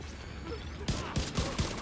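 Gunfire in The Division 2, a rapid series of sharp shots starting partway through and repeating in quick succession, heard alone at moderate level.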